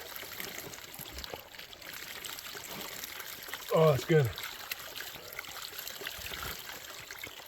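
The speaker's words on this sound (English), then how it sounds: "Fresh mountain spring water." Fresh mountain spring water trickles steadily in the Cascades, a soft continuous dribble that runs through the whole clip, with a brief spoken exclamation partway through.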